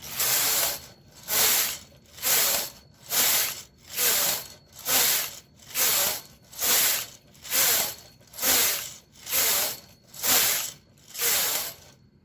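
A knitting machine carriage passes back and forth across 56 needles while knitting a yoke sweater, about a dozen rhythmic ratcheting, hissing sweeps at an even pace of roughly one per second, close and loud with no talking.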